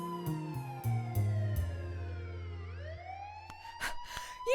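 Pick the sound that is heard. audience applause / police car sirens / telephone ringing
police car sirens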